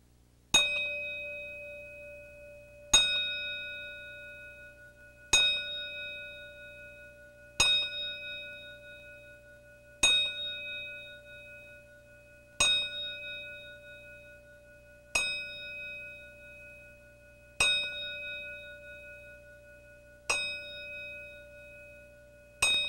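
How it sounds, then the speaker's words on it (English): A single bell struck ten times at a slow, steady pace in a wrestling arena tribute, each clear metallic ring decaying before the next, heard alone without talk. "Let's have now a 10-bell salute."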